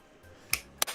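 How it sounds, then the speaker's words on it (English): Two sharp, isolated claps spaced about a third of a second apart, crisp and fairly close, in an otherwise quiet room: a sparse, polite golf clap. "Golf clap."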